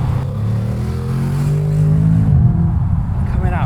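Mercedes-AMG SLS Roadster with forged pistons and a dry-sump engine accelerating: a loud, deep engine roar climbing steadily in pitch, then a brief dip at a gear change before pulling again, heard from inside the car.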